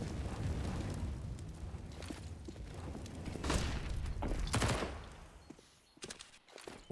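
Faint, muffled grenade blast and scattered gunfire during a CS:GO match on the banana area of the map, a dull rumbling mix of pops and bursts that drops away near the end.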